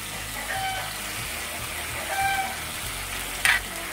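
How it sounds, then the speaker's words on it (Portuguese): Water bubbles and sizzles in a plow-disc pan over a wood-fired stove while chicken and rice cook, a soft continuous hiss close by with a brief clatter near the end. "A água já tá aqui fervendo."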